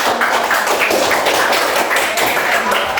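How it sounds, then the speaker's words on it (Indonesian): An audience in a classroom presentation session claps together after a group finishes, a dense, steady patter of applause that runs throughout at close range. "kita kasih aplaus dulu buat"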